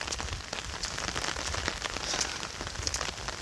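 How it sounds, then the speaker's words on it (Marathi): Steady rain falls on a peanut field, a dense, even patter of many drops with occasional louder nearby hits, continuous and alone with no talking. "पाऊस चालू आहे मस्त."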